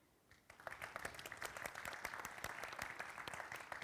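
A conference audience at a blockchain event applauds, dense overlapping claps starting quietly then swelling into sustained, fairly faint applause from a crowd.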